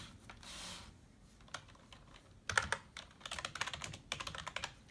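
Close, quiet typing on a computer keyboard: a few isolated key taps, then rapid irregular bursts of clicking keystrokes with no talk.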